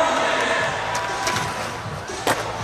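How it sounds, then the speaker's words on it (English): Crowd at a Street League skateboarding contest on Championship Sunday cheering and roaring in a steady, dense wash of noise, with a few sharp board slaps and pops cutting through near the end. "The crowd loves it"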